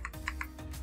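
Computer keyboard typing a network ping command: a few quick, close key clicks in a short burst.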